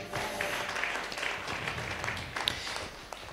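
Congregation at a French-language church service applauding to acclaim the Lord, a steady broadband patter of many hands held at moderate level for a few seconds with no talk over it.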